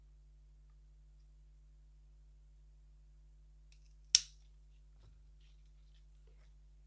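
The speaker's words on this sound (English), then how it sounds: "So I'm going to cut it just above the node" Scissors make a single sharp snip through a silver pothos stem, a quick crisp cut in an otherwise quiet room, followed by a faint small rustle.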